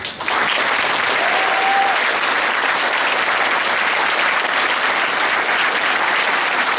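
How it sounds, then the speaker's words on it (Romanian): A church congregation breaks into loud, sustained applause that starts abruptly and stays dense and even to the end, filling the hall with continuous clapping. "Aplaudați-l pe Iisus"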